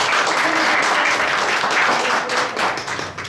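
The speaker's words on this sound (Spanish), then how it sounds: "Un fuerte aplauso." Audience applause at a live podcast taping, a loud, dense round of clapping that holds steady for three seconds, then thins and tapers off.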